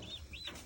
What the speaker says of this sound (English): That's 16 turkeys.